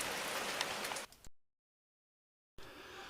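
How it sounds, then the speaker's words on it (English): Heavy summer rain falling in the New Forest, a steady dense hiss of drops for about a second before a sudden cutout to silence, then the downpour resumes just as loud. "Towards the end of July, we had some very heavy rain"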